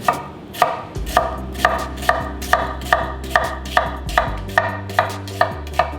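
A knife chops through an onion, cut into medallions for sautéing, in about a dozen evenly spaced crisp strikes against a cutting board, close and clear, with a low steady hum underneath and no talk.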